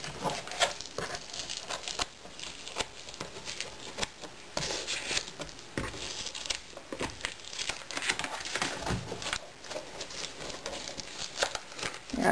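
Vinyl cover being peeled off a chipboard three-ring binder: uneven crinkling and crackling with tearing pulls in irregular bursts, close and fairly quiet, with no talking.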